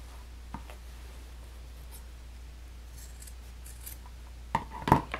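Scissors trim the small corners of a handmade computer case, heard as a few faint snips early on, then two sharper close cuts near the end over a quiet background hum, without speech.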